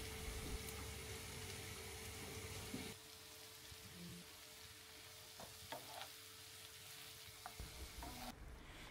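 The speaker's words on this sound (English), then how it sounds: "then added the chopped mushrooms and continued to sauté" Chopped mushrooms added to salted, sautéed onions sizzle steadily in a pan, a loud hiss at first that drops to a softer fry after a few seconds, with occasional light clicks of stirring.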